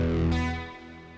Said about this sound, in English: So if we just were to take the guitar by itself, that first hit would sound like this.